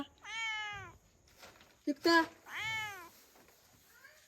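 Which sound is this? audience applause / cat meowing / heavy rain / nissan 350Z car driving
cat meowing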